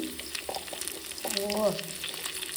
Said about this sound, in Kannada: ಆಯಿಲ್ ಕಾದಾದ್ಮೇಲೆ ಎಗ್ನ ಹಾಕ್ಕೊಳ್ಳೋಣ.